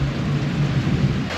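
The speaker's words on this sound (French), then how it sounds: "l'orage se rapproche" An approaching thunderstorm with rain pouring down and a deep rolling rumble of thunder, loud and continuous throughout.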